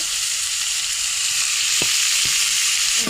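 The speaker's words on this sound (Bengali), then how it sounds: "আর এই কোয়েল পাখিটা এই যে দেখুন ভাজা ভাজা হয়ে গেছে" Quail and onions frying in a pan, browned, with a steady loud close sizzle and two brief spatula clicks near the end, no voices.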